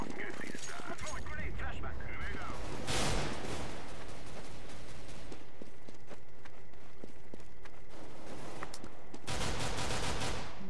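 P250 pistol shots ring out in Counter-Strike: Global Offensive gameplay, several sharp reports in bursts among footsteps and other game action, with someone talking over the game.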